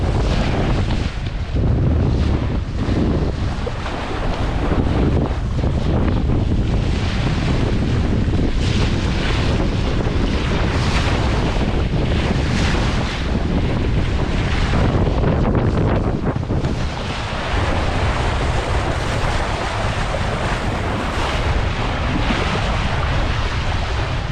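Sailboat rushing along under sail at 8.5 knots on an overnight passage, with loud continuous wash of water and surf against the hull mixed with heavy wind buffeting the microphone, steady throughout with no talking.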